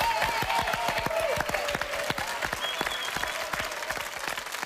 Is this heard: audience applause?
yes